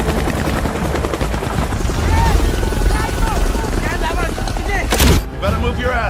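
A military extraction helicopter thunders nearby with a loud, steady rotor chop, mixed with shouted voices and a sharp burst of gunfire near the end.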